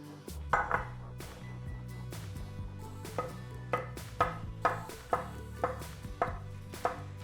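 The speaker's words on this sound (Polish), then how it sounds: "a ja pokroję pieczarki" A knife slices mushrooms on a cutting board, sharp close taps in a fairly regular rhythm, with no talking.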